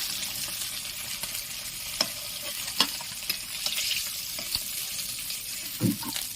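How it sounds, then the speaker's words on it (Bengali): Fish heads fry in hot oil for muri ghonto, giving a steady close-up sizzle with occasional sharp clicks and a soft thud as pieces are turned in the pan. "এবারে মাথাটা উল্টে নেব আর একটু উল্টে ভালো করে ভেজে নেব"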